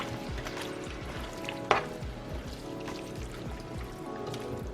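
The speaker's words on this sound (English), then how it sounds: "we're going to stir this in" Chilli being stirred in a pot on the stove, a soft steady sizzle with repeated scraping strokes of the spoon and one brief clink, close and fairly quiet, no talk.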